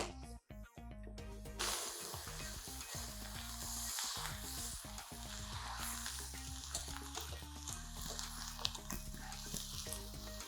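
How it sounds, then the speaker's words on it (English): Garlic browns and sizzles in a pan, a steady, close frying crackle that runs continuously with a few stirring scrapes and no talking over it. "We've got some browning garlic going on."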